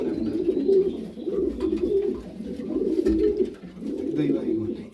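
Pigeons in a loft coo in rolling low throaty phrases, several birds close by repeating in a steady pulse, with a voice talking faintly among them.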